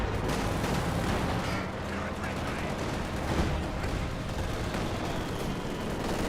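Dense, rumbling battlefield din from a Panzerwerfer rocket artillery barrage in Company of Heroes 2, a continuous roar of overlapping blasts and crackling fire held at a steady level, with a voice talking over it.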